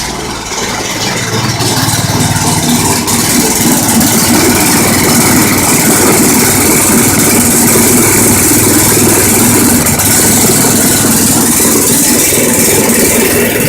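A rough-running 12-volt generator engine drones loud and close, a continuous low, throbbing hum with rattling layered on top, steady from start to finish with no voices.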